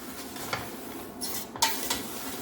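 A spoon turns freshly popped stovetop popcorn with sugar in a hot pot, giving close scraping and rustling strokes with a few sharper clinks against the metal over a faint sizzle.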